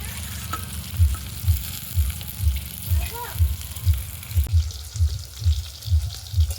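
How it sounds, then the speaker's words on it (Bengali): Potato pieces frying in hot mustard oil with a little salt and turmeric, a steady close sizzle under a regular, rhythmic low thumping. "আলুগুলো ভেজে নেব ভালো করে।"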